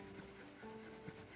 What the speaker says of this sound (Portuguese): você vai esfregar o stencil, ou você pode utilizar uma escovinha de lavar unha, também dá certo